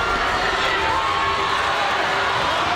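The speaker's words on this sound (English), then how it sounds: "Crowd reaching a fever pitch." Roller derby crowd cheering at fever pitch, a dense sustained roar of shouts and whistles filling the arena, loud and unbroken throughout.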